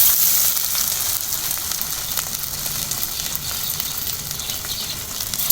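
Pumpkin slices frying in mustard oil give a steady, close sizzle that holds its level for several seconds, with no voices over it.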